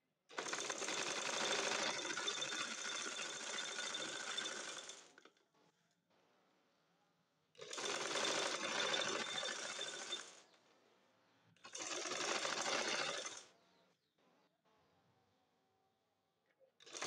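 Sewing machine stitching the neck fabric of a two-colour Naira dress, run in three separate bursts of steady, close, dense whirring with short quiet pauses between them.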